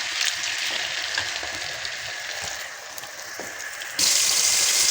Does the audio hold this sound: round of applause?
no